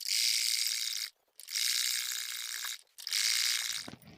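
A sewing machine runs a double line of stitching along a blouse sleeve seam, three steady bursts of fast, even mechanical whirring broken by two short pauses, close and alone.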